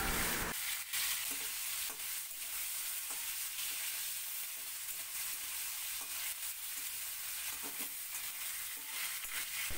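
A fish head fries in hot oil with a continuous, even crackling sizzle, close and steady for about ten seconds, with occasional stirring and no voices.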